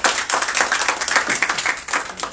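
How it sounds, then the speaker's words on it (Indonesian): A church congregation claps together in praise during a sermon, a dense, steady burst of many hands filling the space for a couple of seconds. "Tepuk tangan bagi Yesus."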